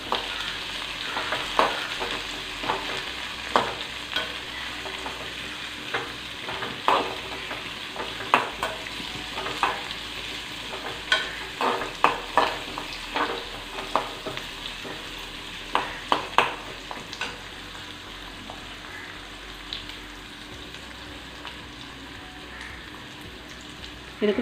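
Curry leaves frying in hot oil for a kuzhambu, a steady close sizzle with crackling pops and occasional stirring clicks throughout.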